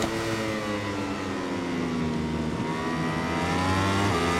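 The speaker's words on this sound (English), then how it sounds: "You can hear that KTM in third." A KTM racing motorcycle engine held in third gear in the MotoGP 21 video game, a loud continuous high-revving drone with rising and falling pitch and no talk over it.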